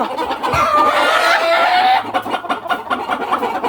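Farm chickens returning after a typhoon cluck and squawk loudly and close up, a busy flock with one drawn-out crowing call, the noise thinning into scattered clucks near the end.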